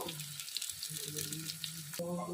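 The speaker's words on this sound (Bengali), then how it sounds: "উচ্ছেগুলো একদিকটা করে ভাজা হয়ে গেছে এখন আর একদিকটা করে আমি উল্টে নেব" Soft, steady sizzle of bitter gourd frying in a pan, quiet and close, with no talking.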